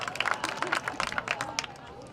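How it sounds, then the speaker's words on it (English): Scattered clapping from spectators in the stands at a girls high school soccer game, loose and uneven, with crowd chatter running underneath. "Let's give him a nice round of applause."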